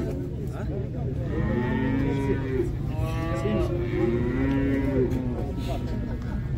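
Cattle at a livestock market moo in several long, drawn-out calls close by, layered over a steady low background hum.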